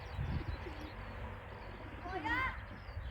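Pigeons coo faintly at a racing-pigeon loft on a cold day. A brief chirpy call rises over a low background hum, with someone talking nearby.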